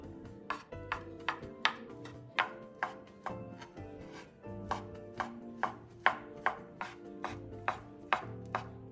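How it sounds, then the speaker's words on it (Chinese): Cleaver chopping cooked char siu pork into small bits on a board, a steady run of sharp, close knocks, roughly two per second, with no talk. "切好后的叉烧稍微剁几下，避免颗粒太大。"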